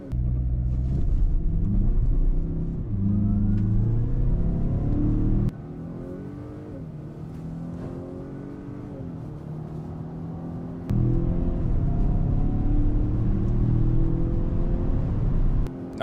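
SUVs accelerate hard in a roll race between a 2024 Acura RDX, a Lincoln Corsair and a Mazda CX-5, with loud engine drone rising in pitch through several gear changes, heard up close from inside a cabin.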